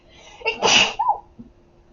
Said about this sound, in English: that was like a really random ass sneeze